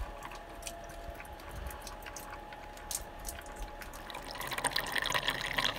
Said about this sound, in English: A leak.